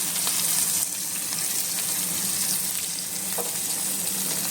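Fish fry in hot oil in a pan, a steady, bright sizzle with a constant hiss and faint crackles, close and continuous with no talking.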